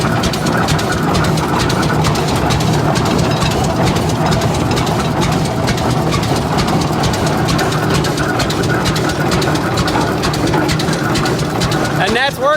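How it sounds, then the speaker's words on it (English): A 1912 Rumely F tractor's big single engine idles steadily at about 375 RPM, a loud, continuous heavy low thumping with mechanical clatter running unbroken and close throughout. "Sounds like it's idling, that's all it does."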